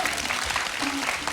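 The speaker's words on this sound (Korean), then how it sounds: "박수 한번 주시죠." Audience applause at a televised year-end science talk show, a short steady burst of clapping from a crowd filling the whole moment.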